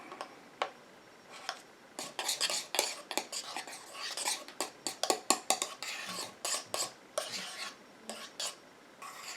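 A homemade glitter hair conditioner is stirred in a container with quick, irregular clicking and tapping strokes that build into a busy, close rhythm before thinning out.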